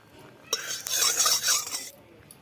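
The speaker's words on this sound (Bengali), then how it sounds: "এবার বড়িগুলো দিয়ে দিলাম তেলের মধ্যে। তেলে এই বড়িগুলো ভালো করে লাল লাল করে ভেজে নেব।" Lentil dumplings (bori) dropped into hot oil in a wok give a loud, crackling burst of sizzling that lasts over a second before quickly settling to a quieter hiss.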